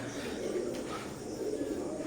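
Imported-bloodline Teddy pigeons coo softly and continuously in a low murmur, close by with a steady hum of background noise.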